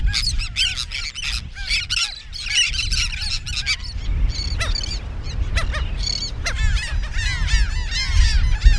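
Many seabirds call at once on Bird Cay, Jamaica, with loud goose-like honks and yelping cries overlapping in dense bursts over low wind and surf rumble, near and continuous.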